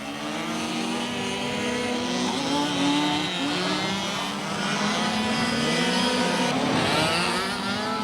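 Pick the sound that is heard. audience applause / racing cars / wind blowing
racing cars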